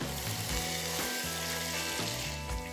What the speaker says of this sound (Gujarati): પુલાવનો વઘાર કરી લઈશું.